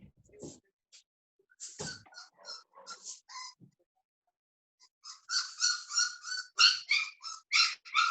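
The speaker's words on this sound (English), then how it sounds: "Whose little dog is that?" A small dog whines in high, thin cries, scattered at first and then in a rapid run of repeated yelps, close and clear in an otherwise quiet room.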